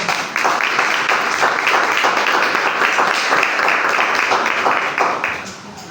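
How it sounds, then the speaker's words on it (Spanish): A church congregation applauds, dense steady clapping that fills the room and carries on for several seconds before tapering off near the end. "Denle un aplauso al Señor"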